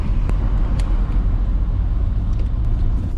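Car pulling away on a road, a loud low engine rumble with steady road noise close by and a few faint clicks, no talking.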